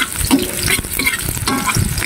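Garlic and onion sautéing in a pan for chili con carne, a busy close sizzle with stirring scrapes and clinks throughout, no voices.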